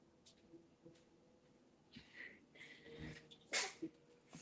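A single loud, abrupt sneeze bursts out near the end of a quiet live personal-reading broadcast, preceded by faint breathy room noise.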